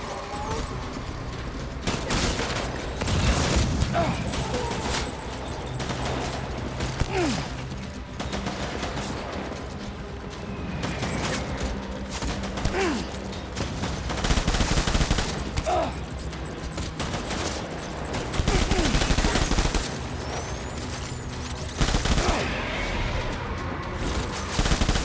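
Repeated volleys of gunfire ring out in the Death Stranding video game, loud broadband bursts spread across the whole stretch over a steady mechanical rumble, with no talking.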